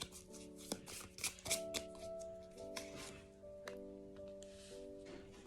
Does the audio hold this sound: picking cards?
yes